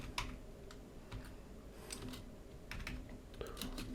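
Keys clatter on a computer keyboard while code is typed, light irregular taps in short bursts with pauses, fairly quiet and close, no talking.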